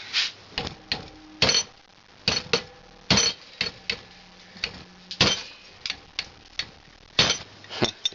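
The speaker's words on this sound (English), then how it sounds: "I'm going to give this a good solid thump with a hammer." A hammer strikes a plastic CD28-41-70 antenna again and again, giving about fifteen sharp, close, hard knocks and clinks in an uneven rhythm, with brief quiet gaps between them.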